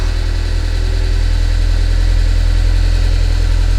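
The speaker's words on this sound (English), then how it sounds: "So as you hear it, it almost sounds like a diesel." A Dodge Caravan engine runs rough and loud at idle, with a steady low, throbbing clatter much like a diesel, heard close with no talking.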